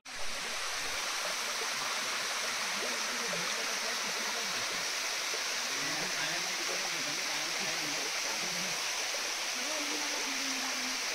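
Water rushing steadily through a tidal creek in the rainy season, a constant broad hiss near the listener with low speech murmuring beneath it throughout.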